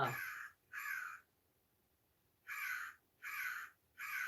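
A motion-sensor device plays recorded crow calls indoors: five harsh caws, two close together, then a pause and three more in quick succession, clear and nearby with no talking.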